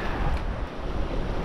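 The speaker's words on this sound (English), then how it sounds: "Realize with all these waves and splashing" Ocean waves splash against breakwall rocks along an Australian shoreline amid strong wind, a loud, continuous rush of surf and wind buffeting close to the microphone.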